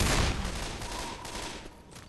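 Continuous gunfire from weapons in the zombie shooter Left 4 Dead, a dense sustained burst that is loudest at the start and then eases slightly, with no pause and no speech.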